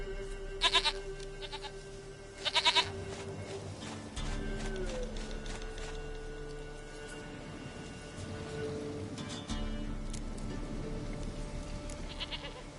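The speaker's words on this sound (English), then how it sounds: "Goat of mine, dearest, sweetest goat." Goat bleats in The Witcher 3: Wild Hunt, several short bursts near the start and middle over a steady game ambience with low drones and faint bird calls.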